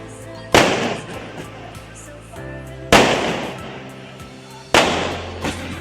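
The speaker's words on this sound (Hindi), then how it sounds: "और गाइस देखो पटाखे फूटने भी शुरू हो गए" Three sharp firecracker bangs burst at intervals during Karwa Chauth celebrations, each ringing out and fading, with faint background chatter between them.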